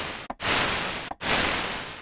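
A fire sound effect synthesized in Serum without downsampling: a steady hiss of broadband noise that cuts out twice in brief gaps, sounding more like rain or static than crackling flames.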